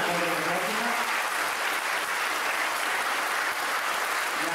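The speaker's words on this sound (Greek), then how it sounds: "Ένα πιο δυνατό χειροκρότημα." Audience applause at a 2002 commemorative event in Greece, a dense, steady clapping from a full hall that holds evenly loud throughout, with no voices over it.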